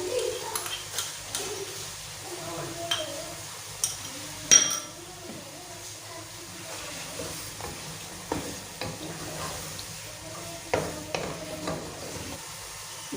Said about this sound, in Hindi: गोश्त में दही डालकर हमने इसको अच्छे से भून लिया।